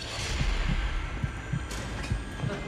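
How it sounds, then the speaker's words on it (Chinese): The multiplayer horror video game The Outlast Trials plays a heartbeat as a steady run of muffled, low thumps about every third of a second, set over a dense, droning hum with no voices. "我突然听到心跳声， 我听到心跳。"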